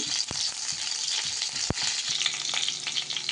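Cumin and mustard seeds sizzling steadily in hot oil for stuffed eggplant, a dense continuous crackle with a couple of sharp louder pops breaking through, close and alone without any voices.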